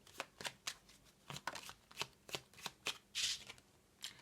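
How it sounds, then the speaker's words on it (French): Tarot cards being shuffled and drawn from the deck, a steady run of crisp riffling and slapping bursts, close and fairly quiet, with no voice over them. "On va tirer 3 cartes."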